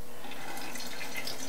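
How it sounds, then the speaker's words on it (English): Tap water running into a sink while syringes are rinsed for refilling Epson inkjet cartridges, a soft, continuous thin splashing stream, quiet and close. "So I'm just going to use the sink with water"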